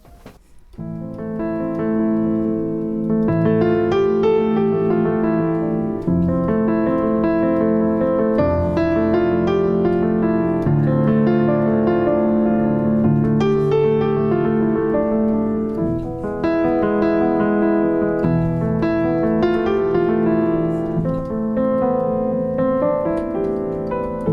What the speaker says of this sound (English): play with more variations in the timings of your notes.